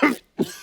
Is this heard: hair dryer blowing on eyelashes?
no